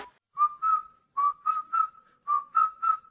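Someone whistles a short tune close by, three clear phrases of two or three bright, sliding notes each with brief pauses between, alone and fairly loud.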